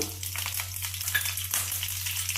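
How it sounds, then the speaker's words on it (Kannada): Mustard seeds, cumin, curry leaves and garlic sizzle in hot oil for a Kannada tomato gojju, a steady crackling fry with scattered pops, close and fairly loud, with no talk. "ಸಾಸಿವೆ ಹಾಕ್ತಾಯಿದ್ದೀನಿ ಜೀರಿಗೆ ಕರ್ಬೇವಿನ ಸೊಪ್ಪು ಬೆಳ್ಳುಳ್ಳಿ ಹಾಕ್ತಾಯಿದ್ದೀನಿ"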